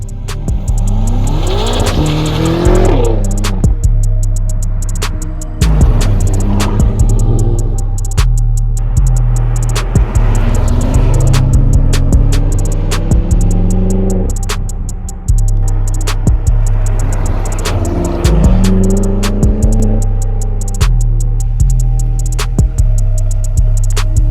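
BMW M6 Gran Coupe engine on the road, repeatedly revving up through gears with rising tones and short breaks between shifts, a loud low rumble that swells and drops over a long stretch with no talk.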